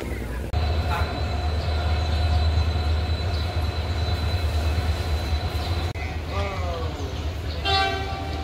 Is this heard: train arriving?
yes